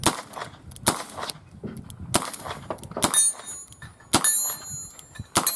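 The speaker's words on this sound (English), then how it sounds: "You gotta slow down. Slow down, Charlie Brown. Shooting too fast." Sharp gunshots from a Smith & Wesson 9mm revolver fired at about 25 yards on an outdoor range, several loud cracks in quick irregular succession with ringing tails between them, no talking.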